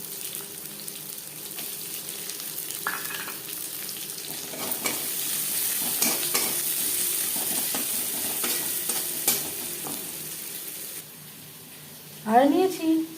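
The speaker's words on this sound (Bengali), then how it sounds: "3-4 মিনিট পেঁয়াজ ভেজে নেওয়ার পর" Chopped onion sizzles and fries steadily in a pan for a Bengali fish curry, a close continuous crackling hiss with occasional stirring, ending with a brief tap-water sound and a voice speaking.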